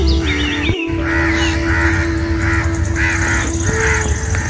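Crows caw repeatedly in overlapping calls, several birds close by in a large jamun tree, with a steady low background hum throughout.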